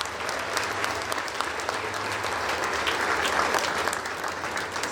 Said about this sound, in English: I wish to invite everyone to give of yourself a round of applause for a job well done.